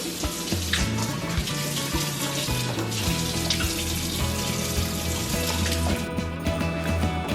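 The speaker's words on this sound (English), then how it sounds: "the first thing a good chef does is wash their hands thoroughly." A kitchen tap runs steadily into a sink while hands are washed before cooking, a continuous close splashing rush with small shifts as the hands move under the stream, no talk.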